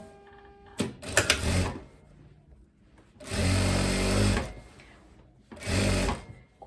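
Sewing machine stitches the side seams of spandex Zara-style trousers in three close bursts, a brief rattle, then a longer steady whirring run, then a shorter one, with quiet pauses between.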